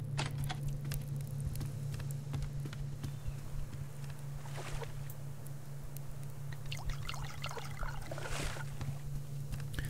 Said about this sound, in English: Let's fill that up. We got to get some water going.